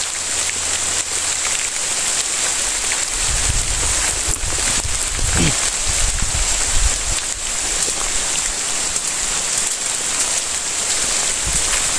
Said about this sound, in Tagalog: ngayon umulan pa rin